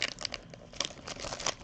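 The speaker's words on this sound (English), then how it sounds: "see if we can get this second pack open" Crinkly plastic wrapping of a trading card pack rustles and crackles in short irregular bursts, close up, as the foil-like pack is worked at and torn.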